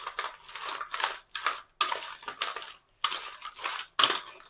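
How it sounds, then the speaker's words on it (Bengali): A spoon scrapes and clinks against a bowl while mixing raw crab with salt and turmeric, in several separate bursts of close, crunchy rubbing with brief pauses between. "এভাবে খুব ভালো করে আমি চামচ দিয়ে মেখে নিচ্ছি"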